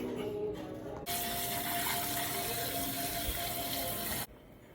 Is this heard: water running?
yes